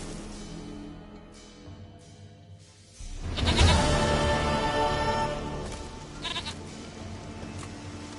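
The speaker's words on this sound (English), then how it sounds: "goat of mine, dearest," A goat bleating in The Witcher 3, its nasal cries rising loudly after a quiet start and repeating over several seconds against a soft game ambience and music.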